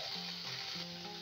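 Drumstick pods dropped into a hot wide kadhai give a soft, steady sizzle, faint and even throughout, with a low background hum and no talk.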